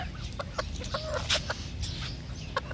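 Roosters on a backyard farm cluck in short, scattered bursts close by, several calls overlapping against a steady background hum.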